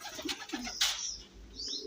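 Racing pigeons cooing softly at night before loading into crates for a race, a few low murmuring coos with light chirps and rustling, close and moderate in level.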